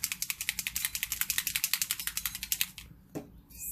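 A bottle of gold alcohol ink (Pinata brand) is shaken hard, giving a fast, even run of bright rattling clicks that stops abruptly near the end, followed by a soft thump and a faint hiss.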